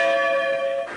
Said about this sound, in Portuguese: Em Florianópolis, os sinos dobraram pela alma do pontífice.